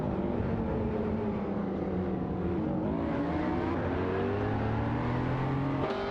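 Race cars, including a Porsche 911 997 GT2 RS, in a video game race, producing a dense continuous engine drone with rising and falling revving tones, loud and steady with no voices.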